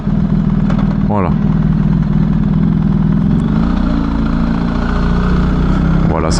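A motorcycle engine idles steadily in city traffic near Rennes, a continuous low rumble running throughout, with someone talking over it and brief rising whines from other passing vehicles.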